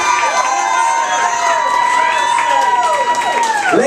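San Antonio comedy show audience cheering, whooping and applauding loudly and steadily, a dense roar of many voices with shrill individual shouts rising above the crowd throughout.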